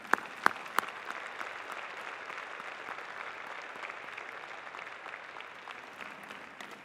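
Graduating class at a spring convocation ceremony applauding family and friends, a steady sustained wash of clapping from a large indoor crowd, with a few sharp knocks near the start.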